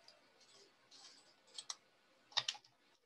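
A few light clicks of a computer mouse during a spreadsheet exercise, sparse, quiet and close, separated by short gaps.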